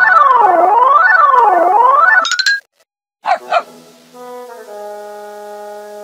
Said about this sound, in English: Correct. A dog.